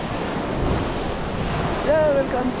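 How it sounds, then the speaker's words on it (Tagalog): Waves break on the shore at Caldibas beach: a steady wash of surf mixed with wind rumbling on the microphone, with a brief faint whistle-like tone late in the clip. "Malakas ang alon"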